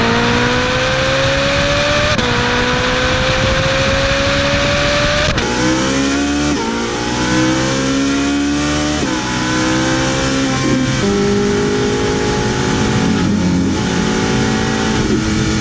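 A Ferrari 458 Italia V8 screams as it revs up to 9,000 RPM through repeated gear changes, each pull rising in pitch before a shift drops it again, loud and close throughout.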